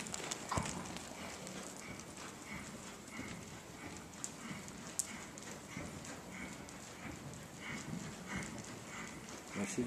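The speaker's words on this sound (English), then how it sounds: "Now see these horses canter on from the posting trot really nice." Horses canter in an outdoor riding lesson, hooves striking in a steady rolling clip-clop rhythm at moderate distance, with someone talking over them throughout.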